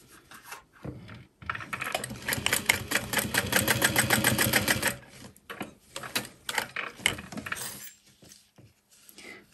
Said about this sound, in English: And then we'll top stitch around that.